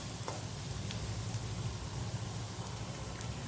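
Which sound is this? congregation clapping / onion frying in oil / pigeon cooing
onion frying in oil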